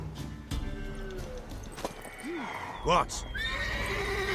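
Horse whinnies and neighs with clip-clop hooves in the Witcher 3 game, a rising neigh near the middle and a louder burst toward the end, over game ambience with speech.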